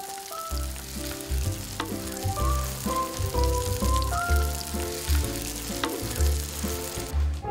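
Skate fish pancakes sizzle steadily in a hot pan, a continuous crackling fry with soft clinks and scraping throughout, close by and without talk.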